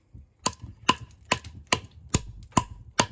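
Seven sharp, evenly spaced chops with an Eafengrow EF135 tactical survival knife, each a crisp close thud-crack striking at a steady rhythm of roughly two per second.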